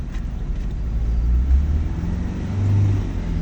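Manual car engine revving lightly as the accelerator is pressed in first gear, a low steady rumble that swells slightly twice, close and continuous with no talking.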